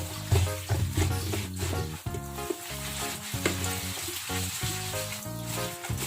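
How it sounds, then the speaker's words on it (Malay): Washed mulberry leaves frying in a pan give a steady loud sizzle with stirring scrapes throughout, and music plays underneath. "Kita nak tunjuk macam mana kita nak goreng daun mulberry tu tadi."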